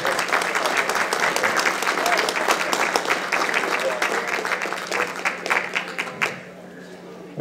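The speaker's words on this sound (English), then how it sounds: "Let's have a round of applause to Deb." An audience applauds to welcome Deb Copenhaver, dense and loud for about six seconds before it tapers off and falls quiet.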